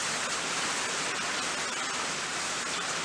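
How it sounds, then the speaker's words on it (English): Beef broth is whisked into a pasty beef-tallow roux, making a steady, dense rush of liquid and whisking noise that holds constant and fairly close throughout, with no voices. "We're going to add some beef broth. And whisk while we do this."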